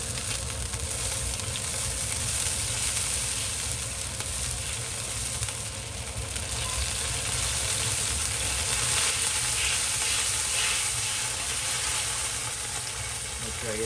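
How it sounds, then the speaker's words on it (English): Sweet and sour sauce mixture of juice and cornstarch being stirred in a pan for squirrel fish, a steady sizzling, frying-like wash that runs on evenly at close range with no talk over it. "so I got to stir this up."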